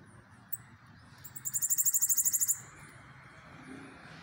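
A bananaquit sings a fast, bright trill of about a dozen evenly spaced high notes lasting roughly a second, preceded by a brief single chirp, over a low background hum.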